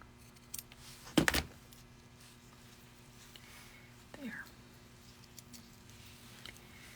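Scissors trimming fabric for a doll outfit give one sharp close snip, followed by a few quieter rustles and small handling sounds in a quiet room.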